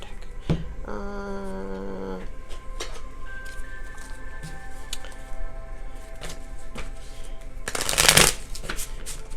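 A tarot card deck being shuffled, with riffling bursts of card noise through the clip and one loud, dense flurry near the end; faint tonal background sounds run underneath, and no one speaks.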